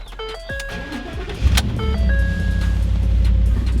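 Ford Raptor pickup truck engine idling steadily up close after a short start-up surge, with a few electronic chimes sounding over the low rumble.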